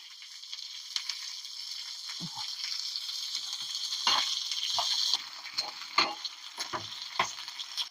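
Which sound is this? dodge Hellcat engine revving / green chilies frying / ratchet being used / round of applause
green chilies frying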